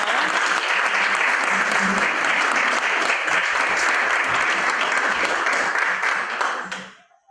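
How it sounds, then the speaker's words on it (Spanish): Steady applause from an audience at a constitutional law conference, given to a diploma recipient; dense, even clapping runs loud for about six seconds, then quickly fades to silence. "Un aplauso, por favor."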